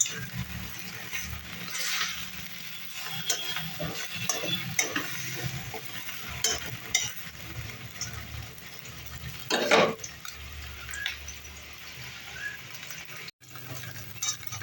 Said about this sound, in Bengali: আবার এই কড়াইতে ডিমের অমলেটও রেডি, সেটাকেও উল্টে নেব।